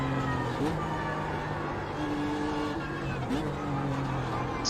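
A race car engine held at high revs as the driver floors the accelerator, a loud continuous drone with tonal harmonics that dip briefly on shifts before climbing again, with a voice talking over it.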